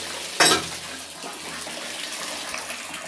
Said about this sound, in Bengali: তো আমি এখানে পানি নিচ্ছি